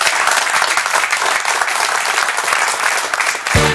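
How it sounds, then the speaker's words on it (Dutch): Studio audience applauding Formula 1 driver Robin Frijns at a TV sports show, a loud, dense, steady clapping that fills the clip and stays even throughout. "Maar 1 keer applaus voor Robin Freins."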